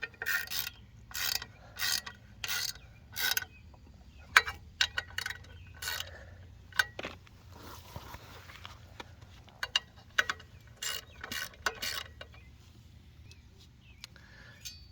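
A ratchet wrench tightens the muffler bolts on a Bolens 450E lawnmower, clicking in quick bursts separated by short pauses, close and fairly quiet.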